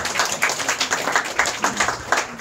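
Someone claps his hands at a church gathering, a quick run of sharp, evenly spaced claps at close range over a low murmur of the room.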